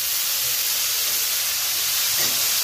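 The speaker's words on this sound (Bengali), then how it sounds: "শাকগুলো ছেড়ে দিলাম। লাল হয়েছে তো তাই একটু নাড়াচাড়া করে দিচ্ছি।" Leafy greens hiss and sizzle loudly in hot oil in a pan, a steady, dense frying noise that carries on unbroken from start to finish without any voices.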